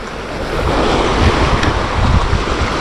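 Strong wind blows at a seashore during a fishing outing, a loud steady roar of wind noise mixed with surf, with no talk.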